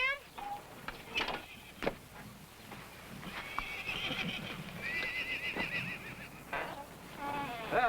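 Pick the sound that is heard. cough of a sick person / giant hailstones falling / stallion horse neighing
stallion horse neighing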